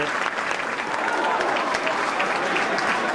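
A large crowd applauds throughout at a Gaelic football senior championship final, acknowledging an injured player, with steady, dense clapping that stays loud from start to finish.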